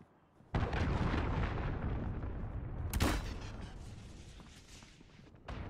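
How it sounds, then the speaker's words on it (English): A cruise missile strike in Call of Duty: Modern Warfare lands as a loud, rumbling explosion that fills the scene, with a sharp secondary blast midway and another burst near the end. "Enemy cruise missile incoming."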